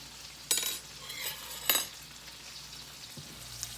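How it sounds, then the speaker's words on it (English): Honey sauce for orange chicken is mixed in a bowl, giving faint scraping clinks of a utensil, with two sharper knocks near the start and quiet sizzling in the background. "now give it a good mix"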